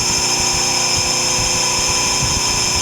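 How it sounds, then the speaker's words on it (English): A steady, loud, unbroken whir from a grinder sharpening a steel drill bit, with a constant motor hum and no pauses. "So I'm just going to do a little quick grind."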